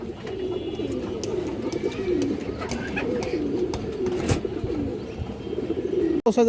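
A silver Bagha pigeon coos among other pigeons on a farm, giving a continuous close murmur of soft rolling calls with a few chirps and a brief clatter near the end.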